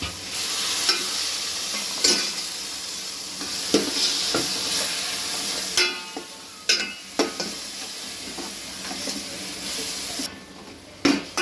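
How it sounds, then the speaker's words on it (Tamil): Ground tomato paste going into a hot pan for Chettinad crab curry with garlic and ginger, giving a steady sizzle and frying hiss with repeated stirring scrapes throughout. "இப்போ நம்ம அரைச்ச தக்காளி விடுறோம்"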